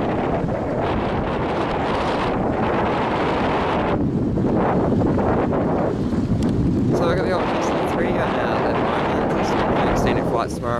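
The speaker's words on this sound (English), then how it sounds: "it's a bit overcast and windy today" Strong wind buffets the microphone in a continuous roar, with people talking faintly underneath, outdoors at an aeroclub open day in Wanganui on an overcast day.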